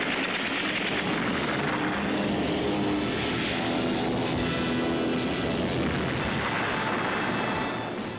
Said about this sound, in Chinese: 高志航在谭文的掩护之下，他开了中日空战的第一枪。